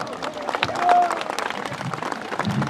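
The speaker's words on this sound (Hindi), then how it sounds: "तालियों में जोर कम है।" A crowd of men claps at a political rally with Chandrashekhar Azad in Uttar Pradesh, producing a loose patter of scattered hand claps mixed with crowd noise and voices.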